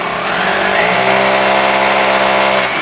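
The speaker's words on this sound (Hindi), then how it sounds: "ड्रिल मशीन सीधी चलाएं इसके अंदर" An electric drill bores mounting holes for a washroom cabinet, a loud steady whining drone with harmonic tones holding for about three seconds, the pitch settling slightly after the start.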